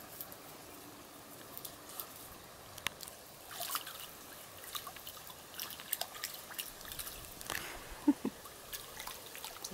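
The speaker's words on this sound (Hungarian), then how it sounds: "Látod, milyen jót elpocsol, Missy?" A dog paddles and splashes through shallow creek water in a valley, producing scattered soft splashes and trickling drips at a moderate distance over a quiet watery background, with no one speaking.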